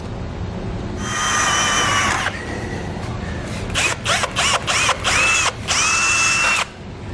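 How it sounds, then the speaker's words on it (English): A power drill whines steadily while drilling a hole in the bumper beam of a 2014 Ford Edge, then runs in a series of short bursts and starts, ending with another sustained whirring run, close and loud. "then we can drill our next hole"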